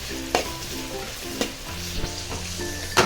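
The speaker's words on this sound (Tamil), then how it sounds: "நம்ம கட் பண்ணி வச்சுருந்த ஆனியன் அதில் போட்டுவோம் அப்புறம் கேப்சிகம் போட்டுட்டு நல்லா சாட்டே பண்ணலாம்" Onion and capsicum sauté in oil in a pan with a steady close sizzle, while sharp spatula scrapes and stirs land about once a second.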